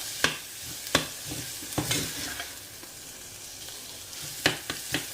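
Curry masala for a green peas curry sautés in oil over a medium-low flame, a soft continuous sizzle broken by sharp spatula scrapes and taps on the pan at an uneven rhythm, with no one talking.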